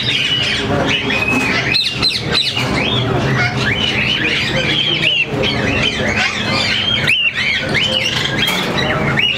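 Many white-faced pearl cockatiels at a bird farm in Lahore, Pakistan, keep up a loud, dense chorus of overlapping chirps and shrill squawks that never lets up.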